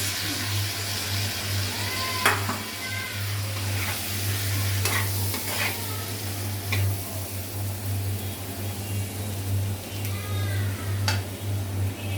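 Jackfruit and shrimp are stirred into a spiced curry in a frying pan, producing a steady close sizzle with scraping stirs and occasional clinks of the spoon against the pan, with no voices.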